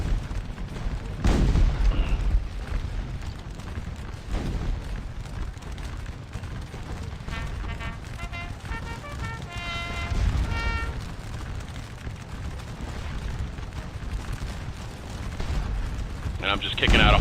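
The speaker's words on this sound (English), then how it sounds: "we're just bombing away with the artillery, with the canister fire" Artillery canister fire in the Napoleonic battle game Scourge of War Waterloo, at Quatre Bras: a few heavy booming blasts spaced several seconds apart, rumbling beneath continuous talking.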